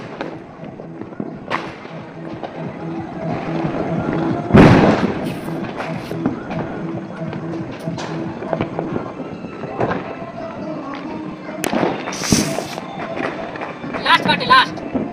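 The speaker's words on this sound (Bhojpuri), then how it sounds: "आप सबके पटाखा के आवाज कैसन लगल" Diwali firecrackers and fireworks burst repeatedly outdoors, with heavy booms, sharp cracks and crackling scattered through the night, some loud and near, others farther off, while people talk and shout throughout.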